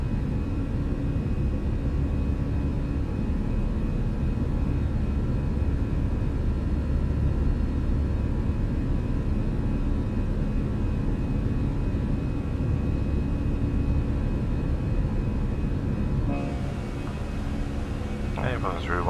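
An Airbus A320 departing in Microsoft Flight Simulator 2020 gives a steady, loud engine roar and rumble that holds throughout, with someone talking near the end.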